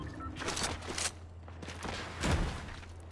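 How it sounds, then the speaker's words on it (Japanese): Faint, distant gunfire in the video game Fortnite: a short flurry of muffled shots, then a single louder burst a moment later, over quiet background. "あ、銃声がする"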